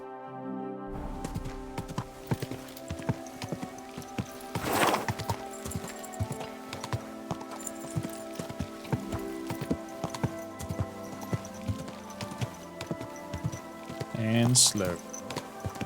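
Horse hooves clip-clop at a steady walking rhythm in the video game Kingdom Come: Deliverance II, with a brief whinny near the end and someone talking over the hoofbeats.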